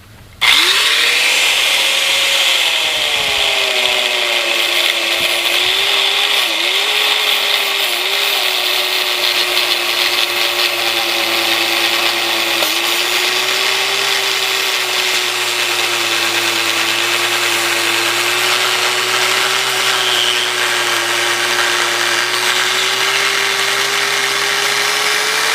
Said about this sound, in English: Now you can use the grinder all the way through